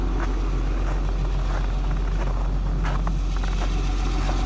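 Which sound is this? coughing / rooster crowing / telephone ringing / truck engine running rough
truck engine running rough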